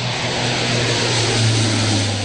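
Steady, loud drone of a Lockheed Martin C-130's propeller engines, a continuous low hum with broadband roar, no voices.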